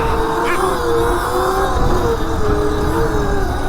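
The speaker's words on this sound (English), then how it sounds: "I've never wheelied a mini bike like this." A stock mini bike engine buzzes and revs steadily up close during a wheelie, its pitch wavering slightly as the throttle is held.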